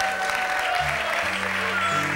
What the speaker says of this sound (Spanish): ¿Cuántos dan un aplauso para Cristo?